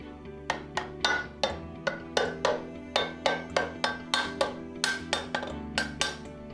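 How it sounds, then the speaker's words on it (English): A rubber mallet taps an end plate into place on a Brodie Birotor Plus flow meter during assembly, giving about sixteen sharp, evenly spaced knocks at close range with no talking. "Tap it into place with the rubber mallet."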